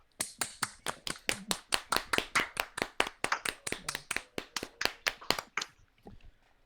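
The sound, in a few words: round of applause on podcast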